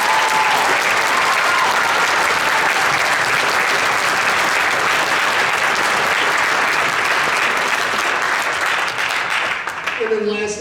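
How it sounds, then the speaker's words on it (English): Loud, dense audience applause fills a high school district band concert in Joplin, honoring the band directors. It holds steady for about ten seconds before tapering off as a voice comes in. "can we give a big round of applause for all those band directors?"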